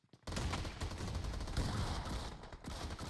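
Dense, continuous gunfire and explosive bursts from grenades in a competitive shooter video game, loud and sustained with no talking.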